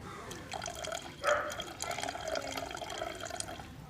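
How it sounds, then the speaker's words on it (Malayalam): Faint tamarind water pours steadily into a pot of fish curry, with a slightly louder splash early on and quiet background hiss. "ഇതിനകത്തോട്ടെ കുറച്ച് പുളിവെള്ളം ചേർത്ത് കൊടുക്കാവേ"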